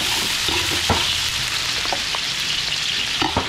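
Pork belly and cordon bleu fry in hot oil for a catering job, a close, steady sizzle broken by a few scraping stirs and clinks of a utensil against the pan.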